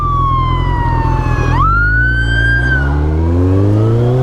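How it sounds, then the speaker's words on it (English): A loud ambulance siren wails close by, its pitch sliding and shifting as the vehicle passes, over rumbling traffic. "give this ambulance some room."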